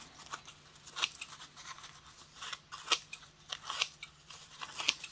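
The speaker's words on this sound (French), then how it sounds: "je prends mes morceaux de papier et je vais venir couper" Scissors snip through pieces of black, green and red crepe paper for a Christmas card, a series of quiet, crisp cuts repeating at an irregular pace, close up with a faint hum underneath.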